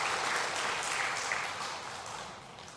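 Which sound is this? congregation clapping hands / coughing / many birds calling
congregation clapping hands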